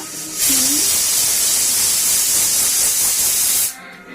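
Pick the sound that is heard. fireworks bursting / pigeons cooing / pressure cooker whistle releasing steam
pressure cooker whistle releasing steam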